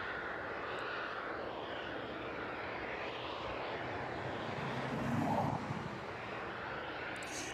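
Cargo jet engines at East Midlands Airport at night give a steady, distant broadband roar that swells slightly for a moment, with no voices.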